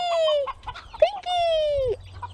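Backyard chickens cluck and squawk close by in a string of loud, drawn-out calls and short clucks, with faint background noise between the calls.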